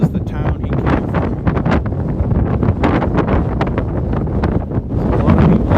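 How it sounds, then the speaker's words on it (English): Strong wind on a seafront by a historic castle island buffets the microphone in loud, continuous gusts and rumbles, with no break in the roar. "Ooh, it's windy."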